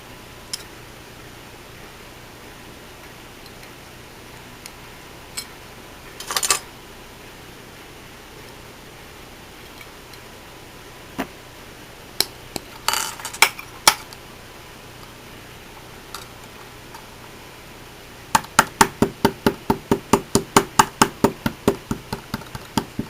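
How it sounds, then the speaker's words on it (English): Sharp hammer taps texturing polymer clay on a hard surface, first scattered single blows, then a quick rapid run of strikes near the end, close and distinct. "Hammer your texture in."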